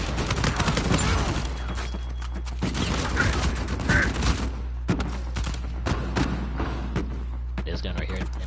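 Uncharted 4 multiplayer gunfire from an XCO rifle, clusters of sharp shots and thumps in quick bursts, fairly close, heard beneath someone talking steadily.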